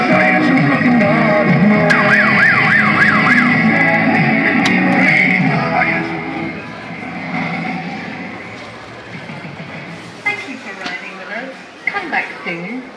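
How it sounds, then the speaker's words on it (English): A Fireman Sam kiddie ride by Archie Mitchell runs at Island Leisure in Barrie, with warbling siren tones and voice-like sounds playing loudly, then thinning out and fading after the midpoint, leaving sparser bursts. "And that was a Fireman Sam Kiddie ride by Archie Mitchell"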